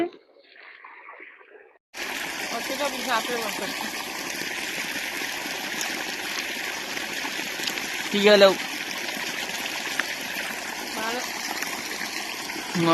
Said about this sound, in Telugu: చెట్లకైతే నీళ్లు కడుతున్నావు అనమాట.